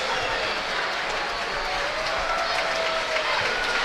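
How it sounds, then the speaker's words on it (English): Sustained applause and cheering from a large home crowd at a high school boys basketball game, steady and fairly loud, with a voice speaking over it. "Round of applause from the hometown as they have won their second home game of the season."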